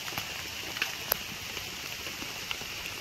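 Rain falls steadily in a broad, even hiss, with a few louder individual drops and taps standing out briefly. No voices sound over it.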